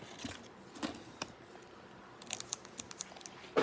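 Scissors snip and cut into a dumpling box package at home, a series of sharp, irregular crisp clicks and crinkles, close and fairly quiet, with no talking.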